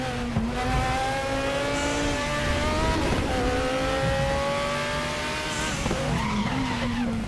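Locked tires skidding on a Ford Zakspeed Capri Group 5 race car at Spa in the RaceRoom racing game, a loud continuous engine whine with sliding tire squeal running throughout under steady revs.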